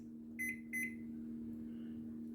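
A Panasonic 1000W combination microwave convection oven beeps twice in quick succession while its clock is set, with clear electronic tones over a low hum and then a fainter tone after.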